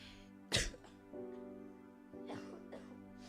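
A single sharp cough near the microphone, followed by quiet murmuring and soft breathy noises in a calm room.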